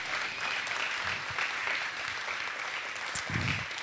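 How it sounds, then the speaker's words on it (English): Audience applause at a Texas county luncheon at the Blue Bonnet Palace, a steady wash of clapping from a room of guests that holds throughout, with a few louder claps near the end. "Let's give them a big round of applause."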